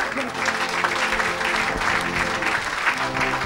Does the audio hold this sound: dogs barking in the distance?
no